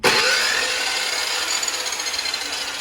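A chop saw bites into clamped metal stock in a welding shop, a loud abrasive whine starting abruptly and grinding on steadily, with a faint rhythmic chatter toward the end.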